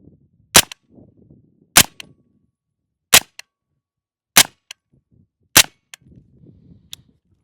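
An MP5K, also called AP5P, fitted with an Omega 36M suppressor fires five sharp, muffled shots at a range, spaced roughly a second apart, with faint rustling and mechanical clatter between them.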